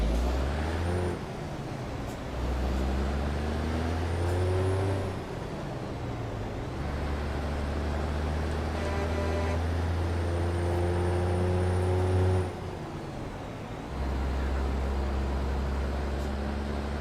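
A Peterbilt truck in American Truck Simulator rumbles with a steady low diesel drone, rising and falling through gear shifts, with an air brake hiss near the middle; no voices.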